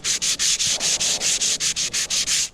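Sanding of epoxy and fiberglass repair on a 12 foot Gamefisher boat hull, about a dozen quick even back-and-forth rasping strokes in steady rhythm, close and fairly loud, with no talking.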